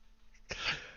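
A single sneeze bursts out sharply after a moment of quiet, followed by a short breathy tail, fairly faint in an indoor setting.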